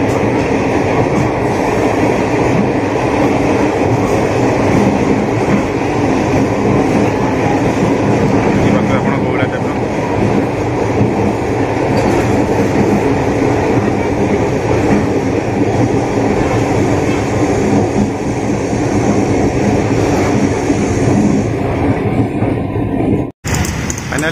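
A train runs along an elevated track in Chennai, a loud, steady rolling rumble with clattering wheels that holds for over twenty seconds before cutting off abruptly.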